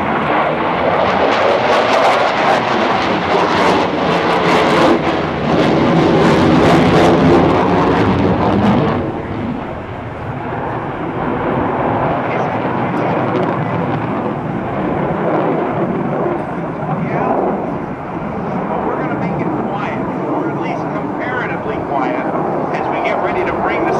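An F/A-18F Super Hornet fighter jet roars through an airshow demonstration at NAS Oceana, a loud sustained jet engine rumble that shifts in pitch as it passes, then fades to a distant lower roar.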